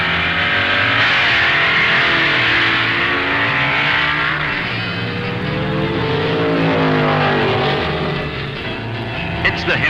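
1960s Superstock drag racers, a Plymouth driven against a Ford Mustang, roar down the strip at an NHRA national event, a loud sustained engine wail rising and shifting in pitch under a commentator's voice.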